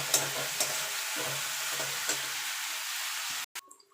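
Garlic fries and is stirred in a pan for a Bengali-style chicken kasha. A loud, steady sizzle carries light spoon knocks and swishes, then cuts off abruptly near the end.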